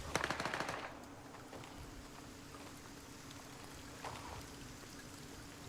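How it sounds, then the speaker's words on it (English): Gunshots in the video game Gray Zone Warfare, a rapid burst of automatic fire at the start, then a low steady hiss with a faint distant crack later on. "Where did those shots break from?"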